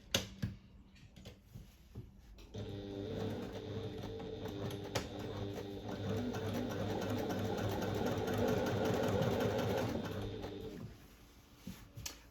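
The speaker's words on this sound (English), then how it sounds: "I'm going to top stitch along it" A domestic sewing machine runs steadily for about eight seconds, top stitching a seam at a long stitch length of about 3.5; it starts and stops cleanly and runs close and fairly loud, with no talking.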